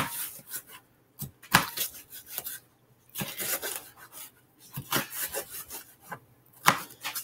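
Knife dicing a large red pepper on a cutting board: bursts of quick chopping taps with short pauses between them, close and fairly quiet, with no talking.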